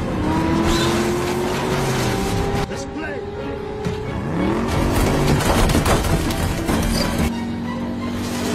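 Cars roar and screech through a film car chase as they ram each other, engines revving and swooping in pitch, tires squealing and impacts clattering, with a voice talking over the busy, dense action.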